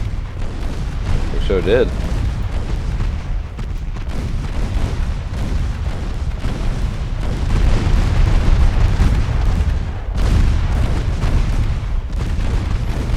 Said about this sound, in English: Meanwhile, my 10-inch guns are doing quite a bit to them.